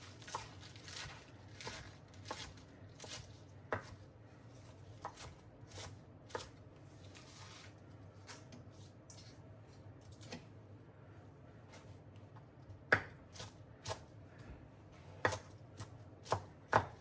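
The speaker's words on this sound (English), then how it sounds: "I'm just gonna rough chop the spinach" A knife rough-chops spinach on a cutting board for a spinach and feta phyllo pie: clusters of quick, crisp taps, a lull midway, then louder strokes near the end.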